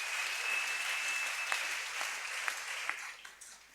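A church congregation claps and cheers in praise, dense steady applause with a few sharper individual claps standing out as it gradually thins toward the end.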